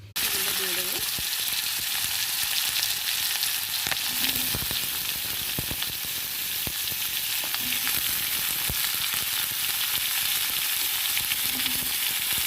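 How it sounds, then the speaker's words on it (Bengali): Potato, pointed gourd, pumpkin and radish frying in hot oil, a steady loud sizzle throughout with occasional stirring clinks and scrapes; a faint voice may be present early. "আলু, পটল, কুমড়ো, মূলো, এগুলোকে ভালো করে ফ্রাই করে নেব"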